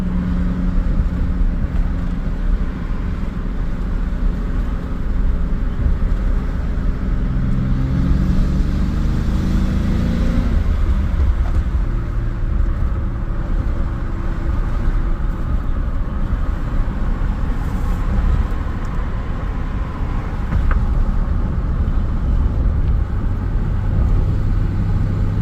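A Chevrolet S10 pickup with Holley Sniper fuel injection running rich after a cold start, its engine droning steadily and loudly throughout while driving, with a shift in engine note partway through.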